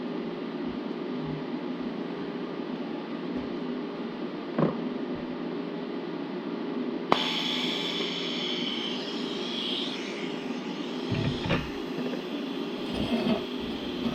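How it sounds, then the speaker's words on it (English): A welder fusion-tacks metal while a Subaru engine is fitted into a sand limo: a steady, loud hiss and hum jumps in with a sharp click midway, then continues with a few low knocks. "This is just a fusion tack."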